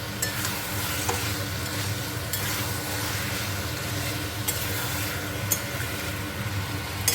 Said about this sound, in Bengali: আলুগুলো দিয়ে ভালো করে কষাতে থাকি